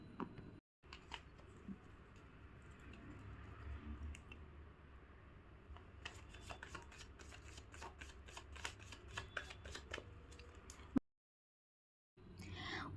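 Tarot cards shuffled by hand in a quiet room, a steady papery riffling and rustling that runs for about eleven seconds with denser flicking bursts toward the end, then stops abruptly before a faint resumption.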